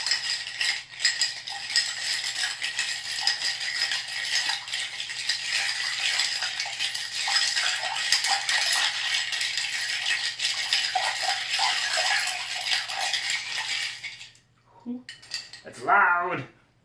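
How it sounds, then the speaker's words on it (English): Ice stirred with a spoon in a glass to chill pink gin, a steady loud rattling and clinking that runs continuously for about fourteen seconds, then stops, followed by a brief voice. "Alright, so now we'll add some ice. Then we just stir to chill."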